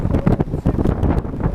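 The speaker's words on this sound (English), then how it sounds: "Yeah, the wind's there." Wind buffets the microphone outdoors on a warm day, a loud, close, gusting rumble that fills the short moment.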